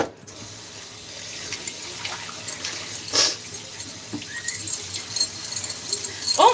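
Kitchen tap runs steadily into a sink to wash a large wine glass, a continuous close hiss of flowing water with a brief clink partway through and some splashing near the end.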